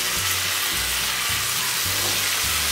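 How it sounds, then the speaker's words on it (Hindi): Soy sauce and green chili sauce sizzling in a hot pan of spring roll filling, a steady close frying hiss with low rhythmic stirring scrapes underneath and no talking. "अभी ऐड करूँगी सोया सॉस और ऐड करूँगी ग्रीन चिली सॉस"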